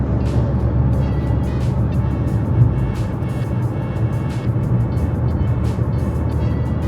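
Inside the cabin of a 2011 Ford Focus cruising at 110 km/h in sixth gear, a constant loud low road and engine drone fills the space evenly, with no voices.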